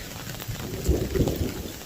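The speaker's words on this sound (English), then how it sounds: "I was hoping I'd beat the rain." Rain falls outdoors over a backyard koi pond, a dense, steady patter and hiss close by with small bumps of heavier drops, no talking.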